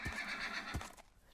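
Minecraft horse giving a short whinny, with hoof thumps at the start and again partway through, close and fairly quiet.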